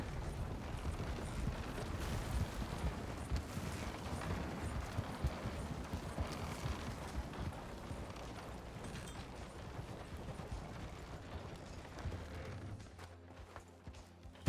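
Horse hooves clip-clop steadily in a Red Dead roleplay video game, a continuous busy patter of hoofbeats with rumbling wheels, fairly faint and fading toward the end.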